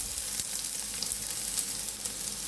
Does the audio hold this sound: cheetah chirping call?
no